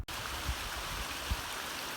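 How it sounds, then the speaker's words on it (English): Water pouring down a rocky mountainside on Snowdon in broad sheets, a steady close rushing wash of noise with a couple of brief low thumps, no voices. "Sometimes, rather than in small streams, the water comes down the mountain in great sheets, as it is here"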